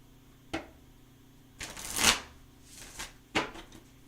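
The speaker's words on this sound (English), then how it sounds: "One more shuffle." Tarot cards are shuffled in a few separate bursts, a short riffle, then a longer rustling flurry and two quicker snaps, close by in a quiet room with no talking.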